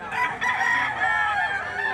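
Rooster crowing at a gamefowl market in Lipa City, Batangas, one loud close crow with a drawn-out, wavering call lasting nearly two seconds.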